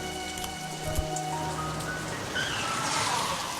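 Rain falling steadily on a surface, a soft continuous patter with a faint hum underneath and no talking.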